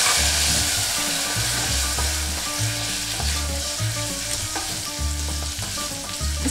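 Cannellini beans tipped into a hot pan with cumin, coriander, garlic and chilli, frying with a loud, close, continuous sizzle and repeated scraping stirs, no voices.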